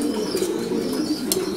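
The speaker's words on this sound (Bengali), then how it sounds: "চক্র কবুতর।" Chakra pigeons in a breeding loft coo in low, throaty pulses, a close steady murmur with a few brief higher ticks over it.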